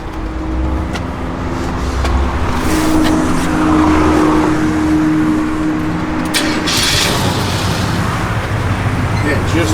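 A 1966 Chevrolet C10 pickup truck engine runs at a steady idle, a continuous close rumble with someone talking over it.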